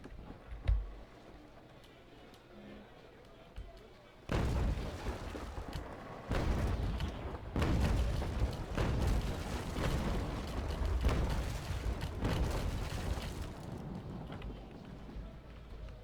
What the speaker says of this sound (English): Get our volley off with our starboard guns, and swing back around and hit them with our port side weapons